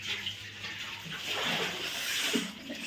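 Water runs steadily from a tap, a continuous broadband rush that fills the whole stretch at a fairly even level.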